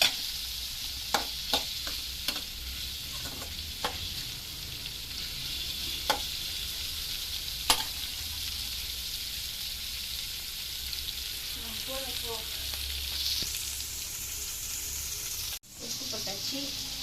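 Greens (keerai) sizzle steadily as they are sautéed in a pan for a stir-fry, with scattered spatula clicks and taps and faint, brief voices in the background.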